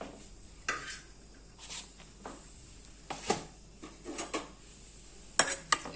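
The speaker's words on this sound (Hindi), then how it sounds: "इसको हम अच्छी तरह मिक्स कर लेंगे।" A spoon mixes bottle gourd raita in a bowl, producing scattered soft clinks and scrapes against the dish, close up and quiet, with a brisker cluster of taps near the end.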